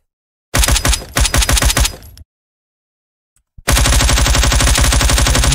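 Rapid, loud pistol fire in the SSRP video game, firing faster than it should: two stuttering bursts, a moment of silence and a click, then a long unbroken stream of close, hard-edged shots.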